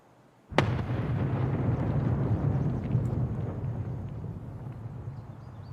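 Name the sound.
grenade explosion in video game Escape From Tarkov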